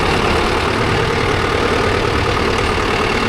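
A Mahindra Arjun Novo 605 DI tractor engine runs with a loud, steady, unbroken rumble close by, its tone even throughout with no pauses or other sounds.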